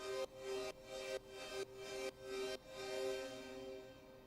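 Thin, filtered synth tone pulsing in five short repeated bursts with soft sweeping noise, then a longer sustained swell; quiet and airy with no low end.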